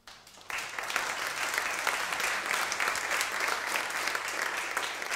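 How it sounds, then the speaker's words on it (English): Audience applause at a DebConf conference session fills the room: a dense, steady round of clapping that starts abruptly after a brief quiet moment and continues loudly and evenly throughout. "So give Enrico a round of applause for starting this."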